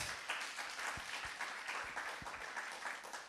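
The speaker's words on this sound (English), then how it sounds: "let me ask you to give him a big round of applause." A large audience at a youth seminar breaks into sustained applause, dense overlapping claps filling the room at steady volume throughout with no talk.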